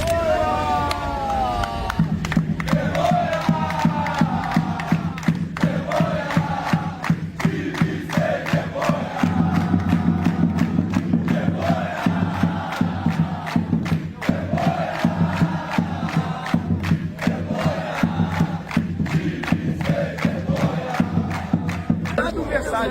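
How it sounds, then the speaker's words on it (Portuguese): Flamengo supporters protest outside the entrance to the Ninho do Urubu training ground; a loud, sustained crowd roar with rhythmic claps, chanting and shouted voices fills the whole stretch, close and dense. "E a torcida fez protesto diante ali da entrada do Ninho do Urubu."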